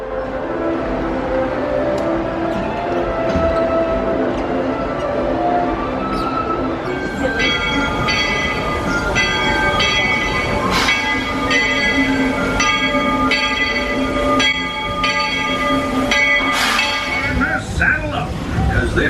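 A Magic Kingdom railroad train passes close by, a steady rumble of rolling wheels and cars swelling with metallic clatter and brief squealing toward the end, loud throughout.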